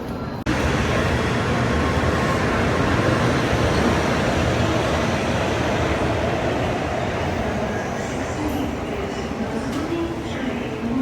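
Shinkansen bullet train at a Tokyo station platform, a loud continuous rushing roar that begins abruptly and holds steady for several seconds before easing slightly, with no talking.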